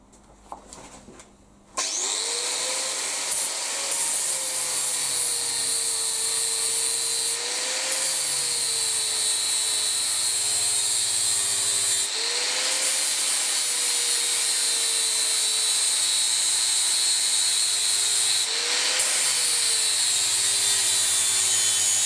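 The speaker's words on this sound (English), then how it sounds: "I'm going to fine tune the shape on this wheel on my big grinder" A big bench grinder wheel shapes a langsax blade, a steady loud whine with the pitch dipping each time the steel is pressed in, several passes over about twenty seconds with no talk.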